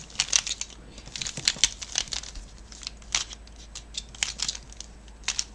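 A Pyraminx puzzle is twisted rapidly while being scrambled, producing a dense run of close plastic clicks and rattling turns, alone and fairly crisp.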